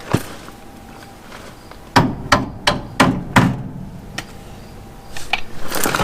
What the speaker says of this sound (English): Need a hammer. That thing's stuck.